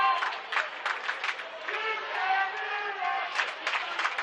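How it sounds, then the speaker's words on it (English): Large crowd at a high school basketball game between Carlisle County and Graves County, a steady murmur of cheering and scattered clapping filling the gym throughout. "Big crowd here at Carlisle County."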